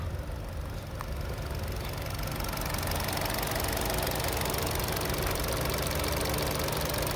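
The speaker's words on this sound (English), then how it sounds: "That engine is sounding good" A 2020 Hyundai Venue's engine idles close by in a steady, continuous rumble, with a constant low drone and no voices.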